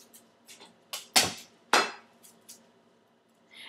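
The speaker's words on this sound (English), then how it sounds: "you just take your knife and smash it on the cutting board" A kitchen knife blade smashed down onto garlic cloves on a cutting board, two sharp loud thumps among a few lighter taps and knocks, close up with no talking.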